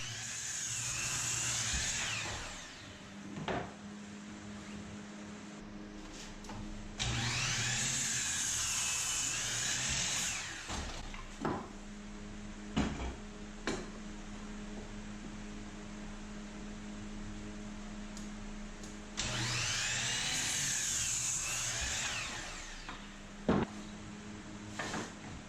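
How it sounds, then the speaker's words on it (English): A miter saw slices wood pieces at 45-degree angles for corner bracing. Three separate loud, whining cuts rise and fall, with quieter workshop noise and small knocks between them. "Here I'm cutting a few pieces at 45 degrees that'll become bracing along several of the corners on the miter saw station"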